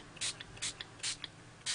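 A can of red spray paint being shaken makes quick, rattling clacks from the mixing ball, arriving in four main bursts with small ticks between, close and fairly quiet with no voices.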